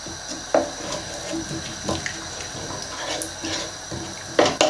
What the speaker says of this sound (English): I'm going to pop some water in.